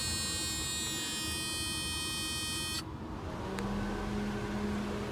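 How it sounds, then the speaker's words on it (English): Auxiliary cooling fan on a Mercedes W124 starting up as its trigger wire is grounded; a steady broadband whir with a low hum settles in after a buzzy electrical whine cuts off partway through, close and continuous. "I've got auxiliary fan turns on."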